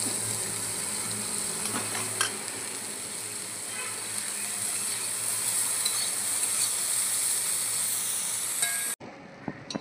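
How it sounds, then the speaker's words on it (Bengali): Lightly boiled figs fry in hot oil in a pan, giving a steady close sizzle and hiss with occasional stirring clicks, then cutting off abruptly near the end. "হালকা সেদ্ধ করে রাখা ডুমুরগুলো একটু ভেজে নেব"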